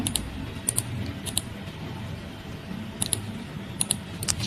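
Several quiet, close computer mouse clicks come in small pairs and clusters over a faint background hum while network adapters are disabled with right-clicks, and no one speaks.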